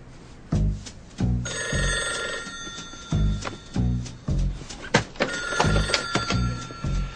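A telephone bell rings in repeated bursts, each with a clattering thunk, while a separate bright electronic tone sounds in the background; the rings come close and loud in an interior setting.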